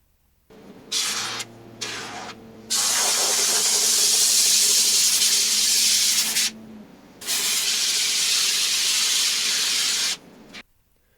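A spray foam can hisses loudly in bursts while filling a duct tape mannequin: a few short sprays, then a long sustained blast, a pause, and another long spray, close to the listener.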